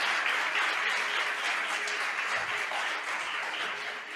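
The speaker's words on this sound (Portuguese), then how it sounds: "Você pode aplaudir o Senhor?" A church congregation at a service applauds together, a dense, steady patter of many hands clapping that fills the room and fades slightly toward the end, with no talking over it.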